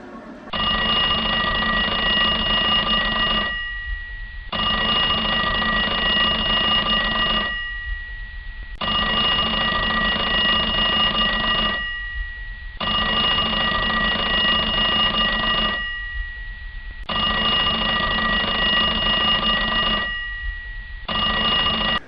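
A telephone rings unanswered in repeated bursts of about three seconds, separated by short silent gaps, loud and close throughout with no voices.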